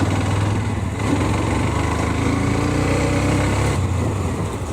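A Hero Xtreme 125R motorcycle's engine runs steadily at a constant, high-pitched buzzing drone, close and loud throughout with no speech.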